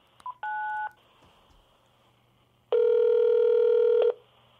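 A telephone gives two electronic tones, a short beep followed by a longer, louder ring-like tone, with the call going unanswered.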